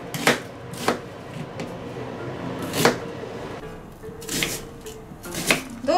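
A kitchen knife dicing vegetables into 1 cm cubes on a cutting board, with sharp, irregularly spaced chops, roughly eight distinct knocks, some in quick pairs, close and clear over a quiet room.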